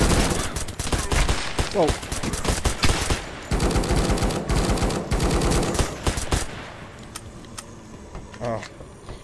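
Rapid automatic gunfire rattles in Death Harvest VR, a co-op zombie shooter, with dense bursts of shots that thin out toward the end. Players talk and exclaim over the shooting.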